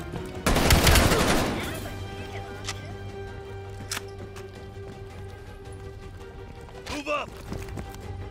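A loud burst of rapid automatic gunfire in Call of Duty: Black Ops Cold War lasts about a second, then gives way to quieter game ambience with a few isolated sharp reports.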